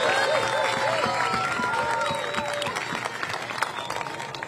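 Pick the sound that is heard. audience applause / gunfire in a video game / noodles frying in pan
audience applause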